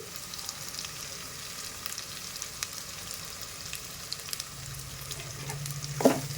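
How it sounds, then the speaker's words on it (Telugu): Curry leaves sizzling in chicken masala for a drumstick curry, a steady close frying hiss with occasional stirring clicks and a brief louder scrape near the end. "కరేపాకు కూడా వేగాలి మసాలా వేగుతుంటే మంచి స్మెల్ వస్తుంది"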